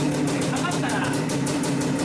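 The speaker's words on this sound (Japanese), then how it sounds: "そしたらエンジンをちょっとかけてみましょう。" A Suzuki TS185ER motorcycle engine idles with a steady, even rhythmic putter, close and moderately loud throughout, with someone talking over it.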